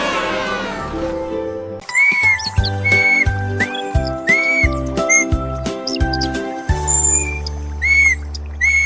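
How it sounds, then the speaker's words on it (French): A cartoon duckling in a children's song whistles and chirps bright, bouncy melodic phrases, loud and clear over a steady musical accompaniment. "Le caneton a commencé à essayer des mélodies sifflantes atteignant le ciel."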